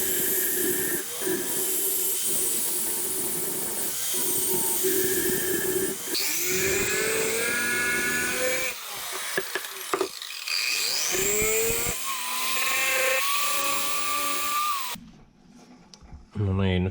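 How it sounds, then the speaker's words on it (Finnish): A drill works on a two-stroke engine cylinder in a home workshop, giving loud, harsh whining and grinding with shifting pitch, brief pauses, and a quieter stretch near the end. "mä yritän porata tämän ja sitten jos se irtoaa, niin sitten on varmaan pakko tehdä uusi"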